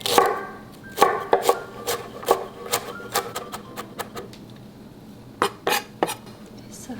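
A knife finely chops cabbage on a board in a series of sharp, irregular strikes that come in quick bursts, pause for about a second, then resume with a few final cuts.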